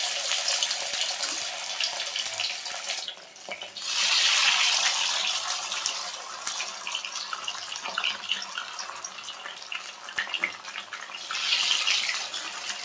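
Small chicken pakoras made with Gobindobhog rice batter fry in hot oil, giving a loud, continuous hissing sizzle that swells twice as more pieces go in.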